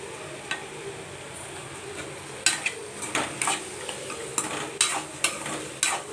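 Garlic and chili powder sautéing in oil, stirred with a utensil: a soft continuous sizzle with a series of distinct scraping clacks against the pan, close by and clear, growing more frequent toward the end.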